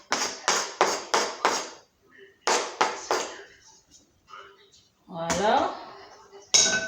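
Food is spooned into a small bowl during home cooking, with quick bursts of close clinks and knocks against the dish and then a softer scraping rattle. A voice is heard briefly.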